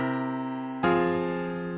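Piano plays a standard dominant seventh chord resolving to the tonic in a perfect cadence: one sustained chord, then a clear second struck chord that rings out and decays, soft and close with no voices.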